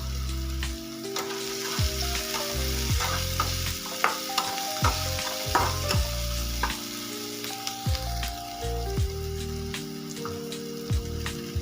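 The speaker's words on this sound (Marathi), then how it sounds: "एक टोमॅटो आणि एक कांदा बारीक कट करून घेतलेला आहे, तो पण आपल्याला याच्यामध्ये तेलामध्ये टाकून परतून घ्यायचा आहे।" Chopped onion and tomato sauté in oil with turmeric in a pan: a continuous close sizzle broken by repeated scraping stirs and clinks of a spoon, with steady tonal sounds underneath and no speech.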